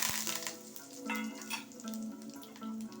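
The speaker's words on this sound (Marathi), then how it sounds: "आता मी कढीपत्ता टाकते फोडणीला" Curry leaves sizzle and crackle steadily in hot oil in a pan, close and fairly quiet, with a few brief spits and a faint tonal hum beneath.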